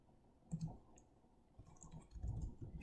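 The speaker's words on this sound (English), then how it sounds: "And I'm going to keep typing here." A computer keyboard is typed on in short, uneven bursts of soft clicks, faint and nearby, with a quiet pause before a busier run of keystrokes near the end; nobody talks.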